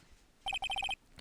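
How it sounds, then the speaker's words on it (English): A repeating electronic ringtone from a phone in the Phoenix Wright: Justice for All game, about seven quick, bright beeps in a tight pulsing burst, loud and alone after a quiet start. "what is with this stupid sounding ringtone?"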